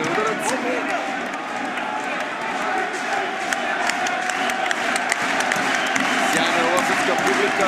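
An Ossetian crowd cheers and applauds during a European title boxing bout between Nenad Borovcanin and Lars Buchholz, a loud, sustained roar with scattered claps and whistles, and a voice talking over it.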